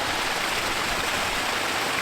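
Water from a pool waterfall pours over stone and splashes steadily into the pool, a continuous broadband rush that stays even and close throughout.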